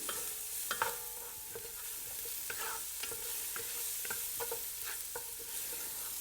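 Garlic and shallots sweat gently in a pan, a soft steady sizzle broken by scattered stirring scrapes and small pops, close and unaccompanied by talk.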